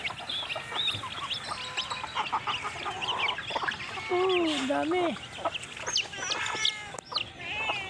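Chickens clucking and squawking close by, a busy cluster of overlapping calls with a brief spoken word among them.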